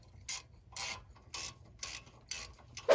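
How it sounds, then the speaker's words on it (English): A ratchet wrench tightens 10 mm bolts on a brake line bracket of a 2004 Chevy Trailblazer. Six or seven short bursts of clicking come at a steady rhythm, close and fairly quiet. "Putting this brake line bracket back on with these 10 millimeter bolts."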